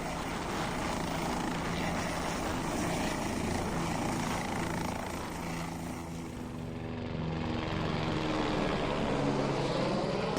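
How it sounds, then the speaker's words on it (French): Helicopters flying through the Khumbu valley near Everest give a steady, broadband rotor and engine drone that fills the whole stretch, shifting slightly in pitch toward the end. "D'ailleurs, beaucoup d'hélicoptères, ça nous a beaucoup surpris."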